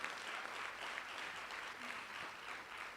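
Graduation and white coat ceremony audience applauding the chairman and advisory board, a soft, steady, somewhat distant wash of clapping with gentle swells and no voices.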